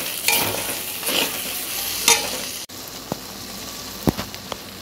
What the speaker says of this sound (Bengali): এবার টমেটো কুচিটা দিয়ে আমি খানিকক্ষণ নেড়ে টমেটোটা নরম হওয়া পর্যন্ত আমি নাড়তে থাকবো।